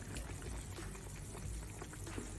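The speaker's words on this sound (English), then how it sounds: "I'm going to put a little bit more water because I want the whole thing to be soaked." Water pours into a pot of Lebanese pea stew in a home kitchen, giving a faint, steady splashing trickle close by with no talk.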